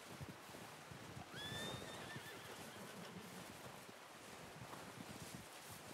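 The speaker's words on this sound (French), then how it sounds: "Votre cheval répondra à votre appel tant qu'il peut vous entendre." A horse in Red Dead Redemption 2 whinnies once, a rising-then-falling neigh standing out over a steady windy outdoor backdrop with faint hoof-like rustling.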